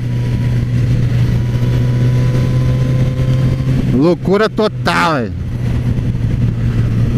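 A Suzuki GSX-S1000Z motorcycle engine running loud and close with a steady low drone, then several quick rising revs near the end while someone talks over it excitedly.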